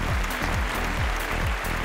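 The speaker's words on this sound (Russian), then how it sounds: "Ваши аплодисменты." Audience applause at the final show of a Russian international modelling contest in 2007, a dense sustained wash of clapping from a large crowd, steady and loud throughout without voices on top.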